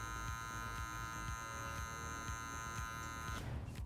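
An electric hair clipper fitted with a half guard drones steadily and close up while blending a textured fade, its buzzing motor running continuously before cutting off near the end.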